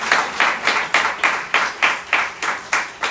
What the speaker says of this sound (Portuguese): Você pode aplaudir ao Senhor mais uma vez?